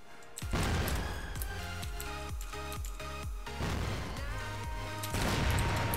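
Heavy gunfire in the CrossFire shooter game, with repeated sharp rifle shots and booming reports in quick bursts over a dense, noisy battle background.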